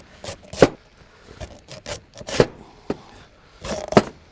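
A serrated knife saws through hard, tough pumpkin skin in a kitchen, making a series of rough, rasping strokes with sharp scraping bursts, close and fairly loud.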